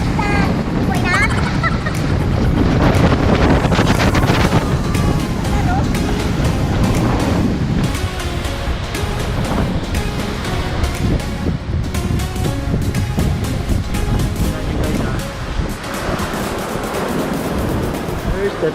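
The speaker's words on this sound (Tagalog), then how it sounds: "Pauwi kami and we have to face the waves." Ocean waves and strong wind rush constantly around a small boat crossing from Sabtang Island, a loud, unbroken roar of surf, spray and wind buffeting close to the microphone.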